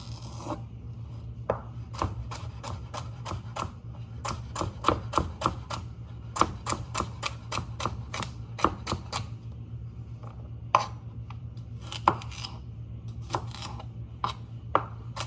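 A knife dices celery on a cutting board in rapid, crisp chopping strokes, arriving in quick bursts with short pauses between them, close and alone over a low steady hum.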